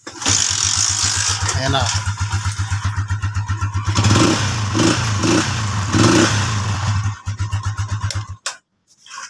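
A motorcycle with a repaired stator catches and runs, its close, loud single-cylinder engine putting out a fast steady putter with a few revs and clatter before cutting off, while someone speaks briefly over it.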